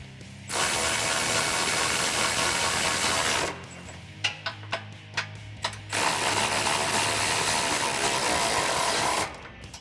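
A hand ratchet with an extension drives 12mm bolts into threaded holes while fitting side step bars on a 2005-2020 Toyota Tacoma, giving long runs of steady close clicking broken by a short stretch of separate sharp clicks.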